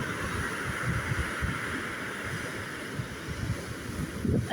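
Strong wind buffets an open stormy seashore with surf, a steady loud roar of gusts and microphone rumble running unbroken with no one speaking.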